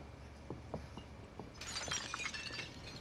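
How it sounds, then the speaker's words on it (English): Glass shatters in Call of Duty Warzone after a few soft thuds, a faint bright crash with tinkling shards trailing off, heard at a distance under the game's quiet background, no talking. "Somebody just broke glass."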